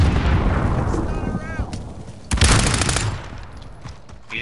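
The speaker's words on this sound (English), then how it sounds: "Throwing grenade!" A grenade blasts in a Warzone multiplayer match, one sharp, loud burst about halfway through amid rattling gunfire and game noise, with a short sweeping tone just before it.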